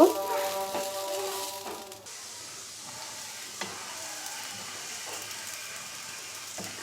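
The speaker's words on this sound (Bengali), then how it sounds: "তো আমি চাউলটাকে দুই মিনিট ভেজে নেব" Rice fries in a pan for restaurant-style biryani, with soft sizzling and intermittent stirring scrapes; a brief ringing tone fades early, and the cooking stays fairly quiet and close throughout.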